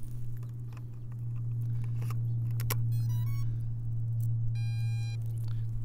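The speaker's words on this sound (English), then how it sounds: "That sound was the radio talking to the drone." After the battery is plugged into a Bugs 3 Pro drone, its radio transmitter sounds two short series of electronic beep tones as it links up, heard over a steady low hum.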